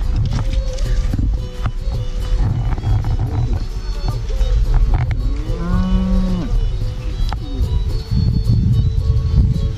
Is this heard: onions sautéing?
no